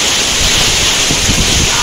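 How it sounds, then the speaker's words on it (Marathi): Heavy unseasonal rain driven by strong wind in a Konkan village, heard as a loud, steady, close roar of rushing water and gusts that never lets up, with no voices. "आता तर मुसळधार पाऊस लागला बघा, वारा पाणी एकदम जाम"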